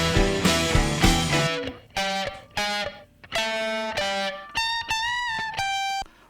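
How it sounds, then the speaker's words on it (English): A distorted electric guitar through an Analog Obsession BritChannel analog-style preamp plugin plays a choppy phrase of short stabbed chords and notes, ending with a few bent, sustained lead notes. "I'm using it to enhance the distortion from these guitars"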